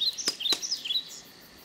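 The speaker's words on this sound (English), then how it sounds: "Take the rain down, make the birds a little less prominent." Bird chirps and tweets from a headphone app's ambient nature soundscape, several quick bright calls in a cluster, close and clear with no talking.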